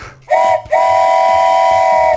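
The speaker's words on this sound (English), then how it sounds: "This is a train whistle." A toy train whistle blown twice: a short, loud two-tone steam-style hoot, a brief break, then one long sustained blast holding steady to the end, with airy hiss around the tone.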